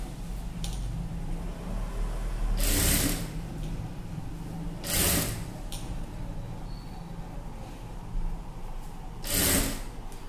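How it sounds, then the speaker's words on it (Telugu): A sewing machine stitches a row on a puff sleeve in three short whirring bursts, spaced about two and a half seconds apart over a quiet room background. "ఇప్పుడు ఇలా ఒక వరుస కుట్టు వేసేసుకుంటే అప్పుడు మనకు కరెక్ట్ గా వచ్చేస్తది"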